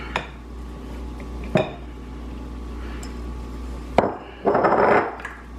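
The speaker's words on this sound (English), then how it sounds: "I could put my dirty dishes in here now." Dirty dishes clatter into a kitchen container in a home-baking setting: a few sharp clinks spaced seconds apart, then a longer rattling scrape of crockery and cutlery near the end.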